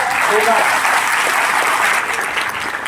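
An audience at a motivational seminar claps steadily and loudly, a thick sustained wash of many hands with no break, fading slightly toward the end.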